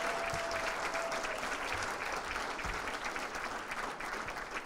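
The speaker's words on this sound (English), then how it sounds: "Big round of applause for those folks." Steady applause at a St. Patrick's Parade Committee installation dinner, moderately distant and continuous, with a few low thumps beneath the clapping.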